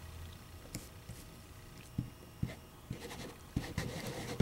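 Ink pad dabbed repeatedly onto resist-textured scrapbook paper gives soft, quiet squishy pats in an irregular rhythm, growing denser toward the end.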